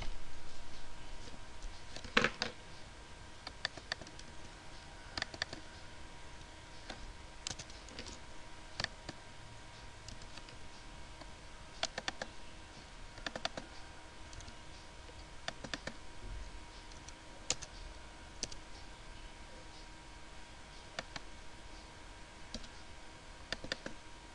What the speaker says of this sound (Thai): แล้วก็พิมพ์ค่าใส่ไปเลยนะคะ